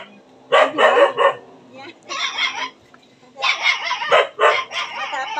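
A small white dog barks repeatedly and fairly close in a house, the yaps coming in clustered bursts with short pauses between them.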